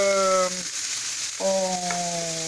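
Aubergines and other vegetables cook in a pan with a steady, close sizzle. A sustained tone comes and goes over it, and no one speaks.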